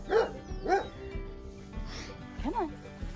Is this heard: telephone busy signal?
no